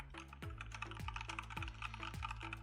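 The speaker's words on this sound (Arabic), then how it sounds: "الكيبورد دي ما فيهاش تاكتايل فيدباك قوي، فمش هتبقى مشكلة معاك في الاستريم علشان صوتها مش عالي للدرجة" A computer keyboard with low tactile feedback is typed on at a steady pace, the keystrokes clicking lightly over a constant low hum, with no voices.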